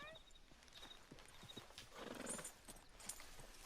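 Hooves clip-clop at a walking pace in Red Dead Redemption 2, faint and steady, and a horse gives a short whinny partway through.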